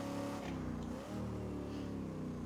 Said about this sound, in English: there's not a lot of danger in just flooring it